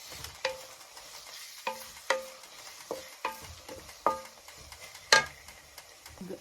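Crushed garlic clove frying in a pan for lasagna gives a low, steady sizzle broken by a run of sharp spoon-on-pan clicks and scrapes as it is stirred, heard close with no voices.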